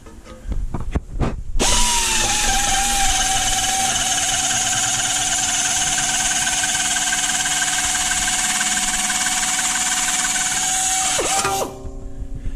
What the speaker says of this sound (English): Here is a pneumatic metal shears.